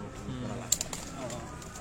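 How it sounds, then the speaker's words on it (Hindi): A golden pigeon on a rooftop loft in Kasur gives a soft, low coo, faint and brief, beside someone talking close by. "ये जी ये गोल्डन कबूतर है उस्ताद ताहिर भट्टी साहब का, बहुत अच्छा कबूतर है"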